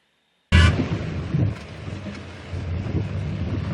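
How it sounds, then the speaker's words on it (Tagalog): Heavy monsoon rain pours steadily in a thick broadband wash, with a sudden loud crack of thunder at the start and a rumbling low roll beneath, no voices. "Sa gitna ng malakas na ulan"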